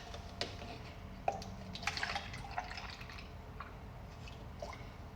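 Milk is poured into a cup, heard as scattered small drips and liquid splashes, faint and close, with no talking.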